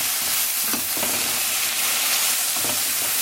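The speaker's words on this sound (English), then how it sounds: "And you have to do this about 3 times to get the onions caramelized." Onions fry and caramelize in a pan, giving a loud, continuous sizzle and hiss. A few brief clacks and scrapes of stirring break through the sizzle at intervals, and no voices are heard.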